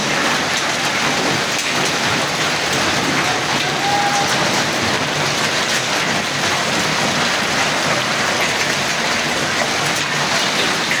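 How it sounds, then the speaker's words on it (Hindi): A heavy hailstorm with large hailstones in Taxila, Pakistan, makes a dense, loud, unbroken roar of hail and rain hitting surfaces close by, steady with no breaks. "इतने बड़े बड़े ओले शुरू हो गए हैं।"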